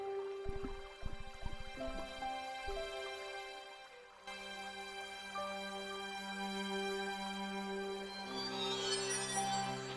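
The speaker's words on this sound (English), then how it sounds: "I held the towel under the faucet and soaked it with water." Faucet in Broken Sword: Shadow of the Templars running water, beginning with rapid drips and splashes that give way to a steady filling, gurgling stream, fairly close and moderately loud.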